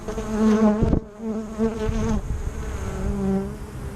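Close, loud buzzing of many honeybees in a hive, a dense droning hum with shifting pitch and a few brief knocks, no talking.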